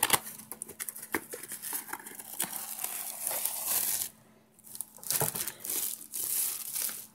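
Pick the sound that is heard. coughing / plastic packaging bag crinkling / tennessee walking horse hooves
plastic packaging bag crinkling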